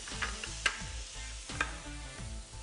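Shrimp frying in a pan on a gas flame for shrimp scampi, a soft steady sizzle with a few light clicks and stirring knocks close by, no talking.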